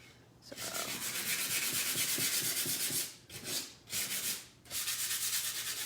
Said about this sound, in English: once you sand it with this coarse grit, that's it. It's gonna stay roughed up like that